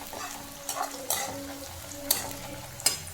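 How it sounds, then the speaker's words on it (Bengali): Onions and green chilies sizzle in oil in a pan, a continuous crackling hiss. A utensil stirs them with several sharp scraping strokes. "এবার আমি দুটো এর মধ্যে কাঁচা লঙ্কা দিয়ে দিলাম"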